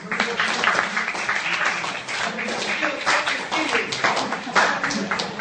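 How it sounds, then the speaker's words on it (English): An audience at a talk on managing life and career breaks into sustained clapping, a dense, moderately loud patter that carries on evenly for several seconds, with some voices mixed in. "Please give a round of applause."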